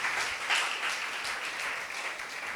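A church congregation at Thiruthangal Carmel Church bursts into steady, dense applause, a continuous wash of many hands clapping close by, with no speech over it.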